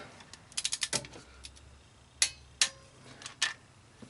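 On a 2003 Honda Civic, a torque wrench tightens head gasket bolts to 14 foot-pounds: a quick run of close ratcheting clicks followed by a few isolated sharper clicks and taps, with no talking.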